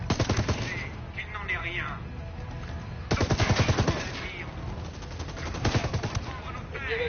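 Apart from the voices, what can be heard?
gunfire in a video game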